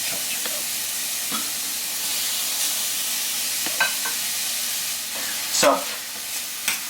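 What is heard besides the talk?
frying minced pork and mushrooms for Vietnamese crepe omelette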